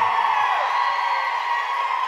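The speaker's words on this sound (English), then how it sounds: "Give Kayla a huge round of applause." A gala audience at a national dance competition cheers and applauds for 17-year-old dancer Kayla Mack, a dense, steady roar of crowd noise holding loud and unbroken throughout.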